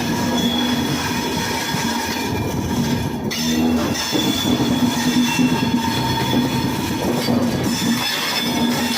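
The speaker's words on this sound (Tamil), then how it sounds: "நம்ம சண்டிங் லோக்கோ வச்சு அட்டாச் பண்ணி ரோடு 4 பிளாட்ஃபார்ம் 4ல் கொண்டு போய் தள்ளணும்." An Indian Railways shunting locomotive moves the Vivek Express rake along the Nagercoil pit line, a steady loud rumble of rolling stock with sustained metallic wheel squeal and occasional clanks throughout.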